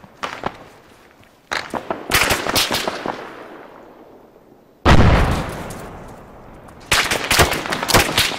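Grenade blast in combat, several sharp, loud explosive bangs in separate bursts, each followed by a decaying rumble and echo, with no talking.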